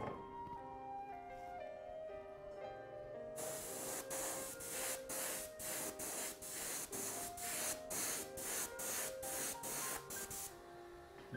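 Ink sprays from an airbrush in short repeated bursts over soft background music, each broad hissing blast starting and stopping in a steady rhythm, close and fairly loud.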